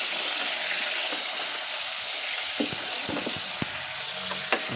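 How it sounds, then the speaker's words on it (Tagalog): Fish tail frying in hot oil, a quiet steady sizzle with a few sharp crackles and pops toward the end, heard alone at close range. "Piniprito ko na yung buntot."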